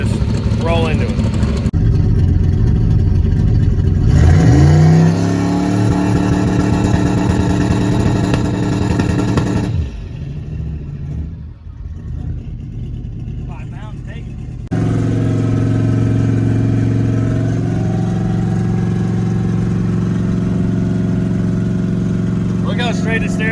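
A 106mm turbocharged Buick Regal builds boost and accelerates on the street, its loud engine rising through rev sweeps with turbo whine, easing briefly to a lower drone before pulling hard again, with voices talking over it.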